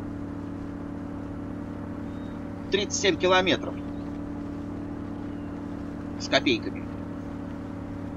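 Chevrolet Suburban GMT400 engine driving through mud in the Spin Tires video game, a steady low droning hum throughout with someone talking briefly over it.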